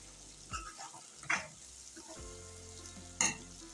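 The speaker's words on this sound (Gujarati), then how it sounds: "અંદર એકવાર ચમચો ફેરવી દઈએ।" A spoon scrapes through masala frying in separated oil for Kathiyawadi guvar shaak, with a few distinct metallic stirring clinks over a faint continuous sizzle.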